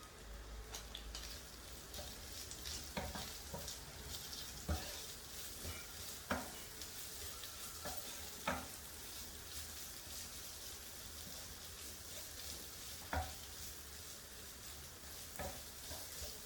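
Rice fries in a pan with a soft continuous sizzle, while a utensil scrapes and stirs in irregular sharp clicks spaced a second or two apart, with no talking.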